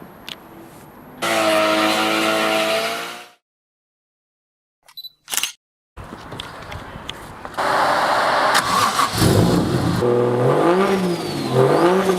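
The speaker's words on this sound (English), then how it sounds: "Should we go and do a burnout?" A 1JZ-powered Nissan S14 does a burnout: a high revving engine note, a sudden silence and a couple of sharp bursts, then sustained loud revving and screeching tyres with a warbling, wavering pitch close by.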